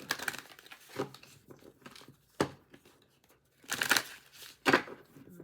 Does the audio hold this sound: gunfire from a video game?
no